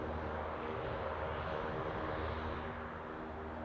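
Ryanair airliner from Tenerife on final approach to Newcastle Airport, a faint steady distant engine drone with a low hum underneath, continuous and without speech.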